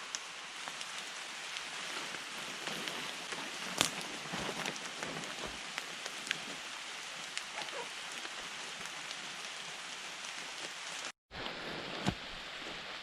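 Steady rain falls through woodland, a dense continuous patter on leaves and surfaces with occasional louder drops close by and a brief gap near the end.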